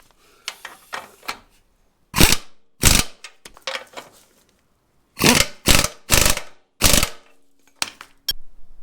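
Ratchet tightening 11/16 grade 8 bolts with lock washers on a drive shaft carrier bearing, heard as several separate bursts of quick ratcheting clicks with short pauses between them, fairly close and with no talking.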